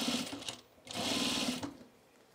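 A sewing machine runs in two close bursts while binding the seam allowance on a Girl Friday blouse, whirring steadily, pausing briefly, then stitching again before stopping.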